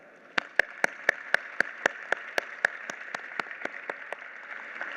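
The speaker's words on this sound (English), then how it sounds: "So please give our FutureFlow speakers a quick round of applause" At a Living Future sustainability conference, crisp claps ring out in a steady, evenly spaced rhythm over a soft hiss, loud at first and then tapering in strength, like one or a few people clapping.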